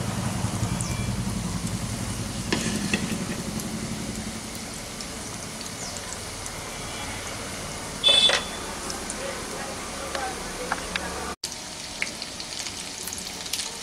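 Egg fingers deep frying in oil over a medium flame, a steady rain-like sizzle with a brief louder crackle and a few utensil clicks and taps, no speech.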